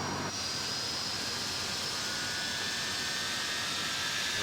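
A simulated MD-88 jet engine spooling up during start in the Prepar3D flight simulator: a loud, steady, close roar with a thin, high whine that holds and slowly climbs, with no one talking.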